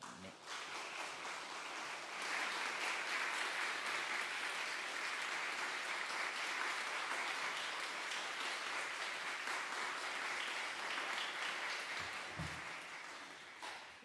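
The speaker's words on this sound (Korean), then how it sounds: "우리 임영국 선교사님 올라오실 때 우리 따뜻한 환영의 박수 부탁드립니다" A church audience claps warmly to welcome a missionary onto the stage: a dense, steady wash of applause that swells after a couple of seconds, holds evenly, then fades slightly near the end.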